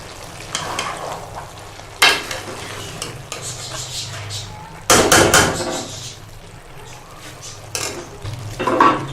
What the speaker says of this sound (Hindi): हम इसमें कसूरी मेथी डालेंगे और इसे मिक्स कर देंगे।